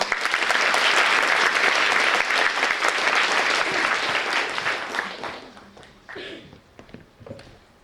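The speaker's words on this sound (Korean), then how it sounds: "학생 여러분들은 충남 삼성고등학교의 공순택 교장 선생님을 큰 박수로 맞이해 주시길 바랍니다" A high school assembly crowd's loud, dense applause that holds steady for several seconds, then thins out into scattered claps and fades away.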